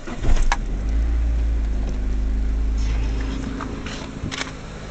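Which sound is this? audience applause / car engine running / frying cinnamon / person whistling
car engine running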